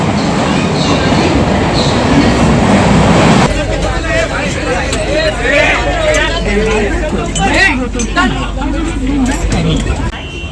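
Inside a moving Mumbai AC suburban local train between Dombivli and Dadar, a steady rumble and rattle of carriages runs under a busy babble of passengers chatting.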